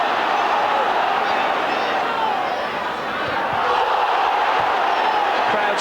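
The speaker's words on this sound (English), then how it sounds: "Crowd screaming for everything now every time the ball goes into the penalty box" A packed football stadium crowd at a 1992 Champions League match between Leeds and Stuttgart roars and screams continuously, a loud dense wall of voices with a commentator talking over it.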